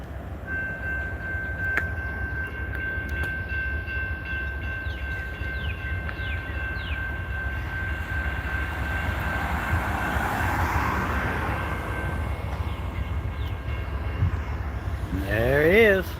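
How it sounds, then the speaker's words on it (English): A freight coal train with three engines rumbles steadily past at a distance, with a long high tone from the rails or horn and rising clatter as it draws nearer. "He's a coal train."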